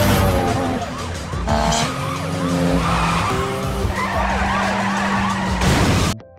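Police cars arriving during a street-racing film scene, loud with tyres skidding and screeching over wailing, shifting sirens and engine roar, ending abruptly.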